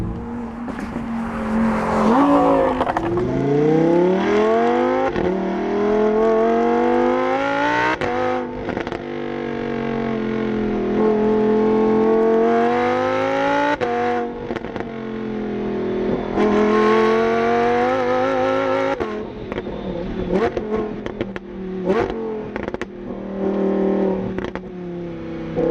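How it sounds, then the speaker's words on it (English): Stock 2023 Lamborghini Huracán Performante engine revs hard while driving, loud rising pulls through several gear changes with brief lifts between, close and continuous for nearly half a minute. "Lambos sound how most cars sound after you put a aftermarket exhaust on"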